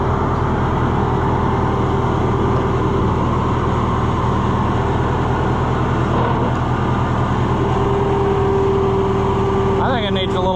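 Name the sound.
Massey Ferguson 50 tractor engine running after starting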